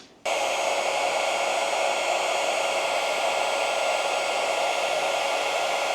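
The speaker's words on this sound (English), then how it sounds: "now I'm going to get an extension cord and get my heat gun out and heat shrink these up" A heat gun heat-shrinking wire connections switches on after a short silence, then blows a loud, steady, even rushing hiss that holds without a break until the end.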